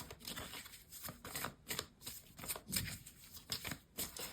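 Rapid papery riffles and flicks of tarot or oracle cards being shuffled, repeated in quick bursts, close up with no talking.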